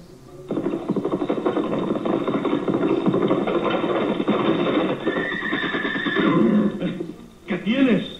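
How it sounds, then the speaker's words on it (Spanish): In a Spanish-language radio drama a horse spooked by a snake whinnies loudly and at length over steady hoof clatter, with a second short neigh near the end and voices talking around it. "¡Mire lo que espantó su caballo!"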